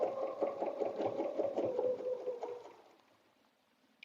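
A sewing machine stitches a quilted bed runner along a template, a steady close whirring hum that fades and stops near the end.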